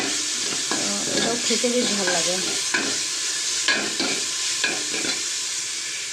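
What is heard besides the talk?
frying chhena with sugar in a pot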